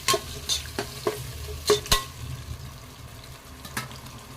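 Green chilies and a cup of yogurt cook in a pan for chicken biryani, with gentle sizzling under several sharp spatula scrapes and clinks against the pan, close up with no talk.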